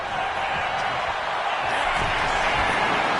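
A virtual Albuquerque arena crowd in the WWE 2K25 wrestling video game sends up a dense, steady roar of cheering that fills the whole stretch at high volume.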